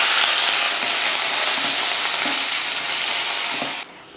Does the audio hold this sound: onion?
yes